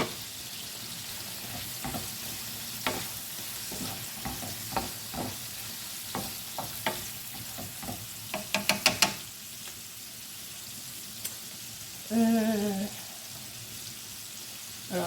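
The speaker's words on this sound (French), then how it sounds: "faites chauffer un filet d'huile de tournesol, faites saucer les crevettes et les cébettes" Shrimp and spring onions sautéing in sunflower oil for noodles, with a soft sizzle under repeated utensil clinks and scrapes, a quick rattling burst midway and a louder stirring surge near the end.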